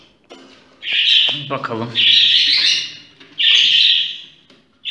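Budgerigar chicks in a nest box give loud, harsh, drawn-out squawking begging calls in repeated bursts, close to the microphone, with a brief spoken word in between.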